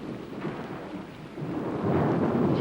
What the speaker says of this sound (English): it's only thunder, dear.